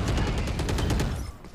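Gunshots in the Eternal Return: Black Survival video game, a dense run of quick shots at moderate loudness that fades out in the last fraction of a second.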